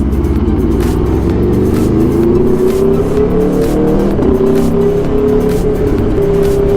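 An Aprilia RSV4 RF motorcycle engine runs loud and close, a steady, throbbing roar whose pitch rises slowly and holds without a break.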